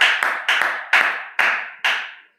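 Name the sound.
church congregation clapping and acclaiming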